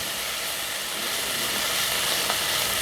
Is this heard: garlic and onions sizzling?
yes